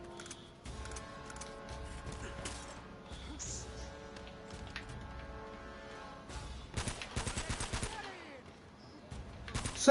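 Gunfire in the game Uncharted: Drake's Fortune, bursts of rapid automatic shots and single cracks coming and going at moderate distance, with people talking over the fighting and a sharp loud hit at the very end.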